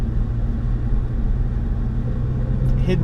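A car driving along a county road in a Chattanooga, Tennessee neighborhood, a steady low engine and road rumble heard from inside the vehicle, with no talking.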